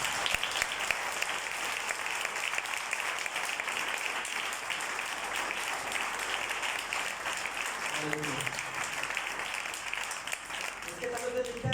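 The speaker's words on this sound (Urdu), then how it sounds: "میں چاہتا ہوں اس کلام کے لیے زوردار تالی بجائیں" A church congregation gives loud, continuous applause, a thick wash of clapping that carries on steadily, with brief voices emerging faintly near the end.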